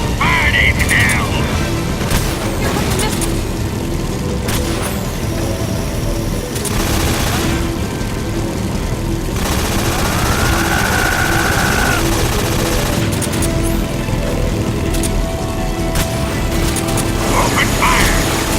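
Rapid bursts of gunfire from the Metal Gear Solid 3 video game, dense and loud throughout, mixed with mechanical clatter and game voices.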